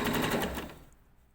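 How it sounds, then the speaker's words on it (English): A sewing machine stitches the inner leg seam of a pair of shorts in a rapid rattling burst that slows and stops within about a second, fairly faint. "You can probably hear my foot going on and off the foot pedal"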